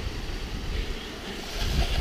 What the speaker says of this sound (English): It's just downright dangerous, treacherous water crossing.